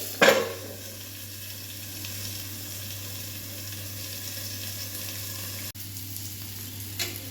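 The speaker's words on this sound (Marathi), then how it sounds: "आता झाकण देऊन आपल्याला छान फ्राय करून घ्यायचे आहेत" Stuffed bitter gourds fry under a lid in a pan, a low steady sizzle and hiss running throughout, with a brief clatter at the start and a small knock near the end.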